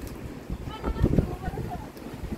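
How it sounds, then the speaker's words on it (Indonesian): Strong wind gusts ahead of rain buffet the microphone in a broad, rumbling roar that swells and eases, with people talking faintly underneath. "Ya Allah, anginnya gede."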